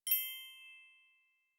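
One bright metallic bell ding strikes cleanly and rings on, fading over roughly a second in silence, cueing a learner's turn in an English plural-forms lesson.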